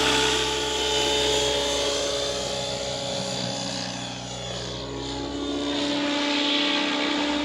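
An Align T-rex 700 RC helicopter roars through a fast pass outdoors, its loud, steady high-pitched turbine-like whine and rotor drone holding strongly with a slight dip and swell in pitch as it passes.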